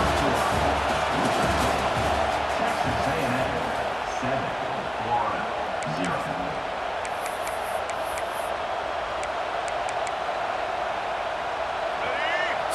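Football stadium crowd roaring steadily throughout a college game, a dense continuous wall of noise at a red-zone moment, with commentators talking over it.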